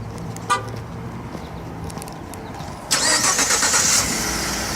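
A truck engine, just back from a warranty repair, cranks and catches near the end after a quiet stretch with a short toot, then idles loudly and steadily up close.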